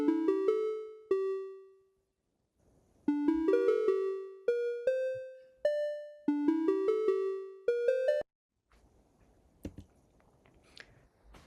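A Khong Wong Yai, a Thai circle of tuned gongs, sounds a series of clear, ringing metallic notes in short melodic phrases, each strike decaying slowly. A noisier rattling, buzzy texture follows near the end.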